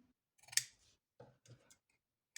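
Scissors trimming patchwork fabric, a couple of quiet crisp snips and small clicks of the blades, close and isolated against near silence.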